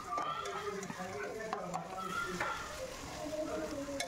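Whole spices (cinnamon, cloves, cardamom) and bay leaves frying with onions in a pan give a soft, continuous sizzle under a person talking, with occasional stirring clinks.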